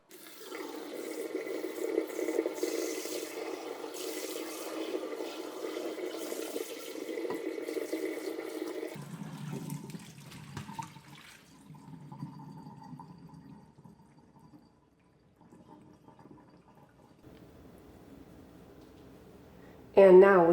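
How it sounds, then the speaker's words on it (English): Salted whey from Havarti cheese curds pours out of a colander into a sink, a steady liquid splashing that runs loud for several seconds, then thins to a softer trickle and occasional drips. "So I'm just going to let this whey go."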